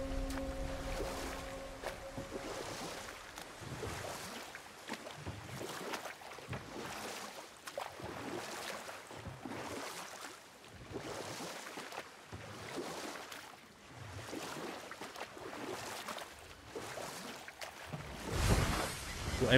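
Boat gliding over water in God of War, a steady wash of waves and wind with rhythmic swells rolling past, fairly faint and continuous, with no talk.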